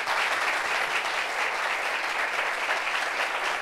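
A studio audience at a talk show applauds steadily and loudly throughout, a dense even wash of clapping with no pauses.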